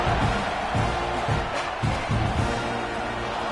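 A big football stadium crowd roars steadily during a college game kickoff. Loud swells of cheering and clapping rise and fall over a constant wash of noise, with faint announcer commentary mixed underneath.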